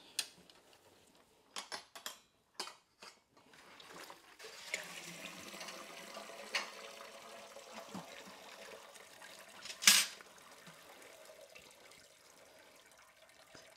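Wort from a porter brew drains out of a lifted mash bag, a soft trickling, splashing liquid sound with a few sharper knocks and clatters early on and one brief bright splash near the end, fairly quiet and close.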